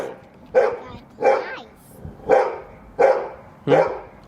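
A young dog barks at the owner's home, five evenly spaced, loud, close barks about two-thirds of a second apart, with no talking in between.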